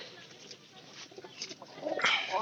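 White pigeons give soft, low cooing close by, a paired couple murmuring in short phrases that grow a little louder toward the end over faint background noise.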